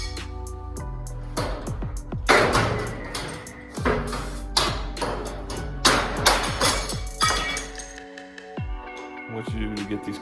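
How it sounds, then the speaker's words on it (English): Hammer blows knock loose the hinges at the top of a garage door with an extension spring system, a steady run of sharp metallic clanks and thuds ringing close by, with brief pauses between strikes. "Just got to hammer them up a little bit to get them to pop off"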